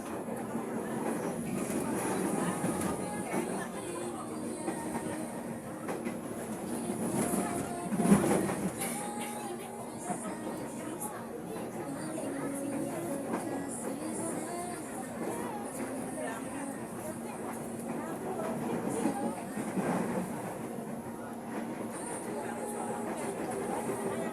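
A KRL commuter train runs between Bogor and Manggarai, a steady rumble with faint rail clatter throughout, under an onboard voice announcement and soft passenger babble.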